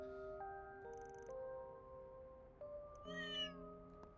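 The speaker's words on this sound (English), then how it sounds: "It's meowing. It's another meow." Cats in the video game Trails Through Daybreak 2 give several short meows, one after another, over quiet sustained background music, with a sharper, higher cry near the end.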